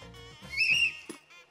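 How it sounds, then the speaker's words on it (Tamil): Contestant on a Tamil game show blows a whistle to answer, a short shrill blast rising briefly over a quiet room with faint voices around it. "விசில் அடிக்கலாம்"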